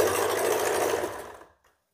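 A sewing machine stitching a neckline, a steady close whirring hum that slows and winds down to silence after about a second and a half, with no talking.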